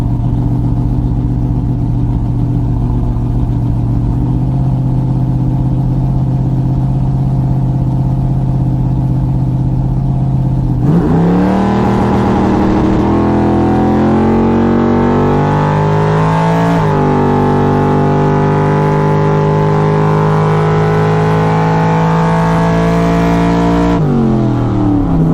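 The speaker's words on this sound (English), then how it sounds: "I think that burnout just affected the launch and spun a bit" A drag racing car at Springmount NDRC launches after a burnout: a loud, steady engine drone gives way partway through to a sharp rise in revving, and the engine stays loud and continuous to the end.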